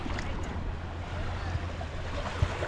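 Shore ambience at Holland Beach on Lake Michigan, a steady wash of waves and wind with a low rumble and a couple of soft thumps.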